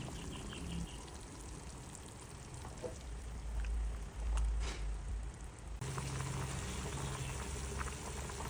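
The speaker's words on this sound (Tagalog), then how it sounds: "Pagkatapos ay magdagdag tayo ng tubig at hayaan itong kumulo." Water boiling in a pot for pork sinigang gives a faint, steady bubbling simmer that runs the whole time, with a few slightly louder surges partway through and no talking.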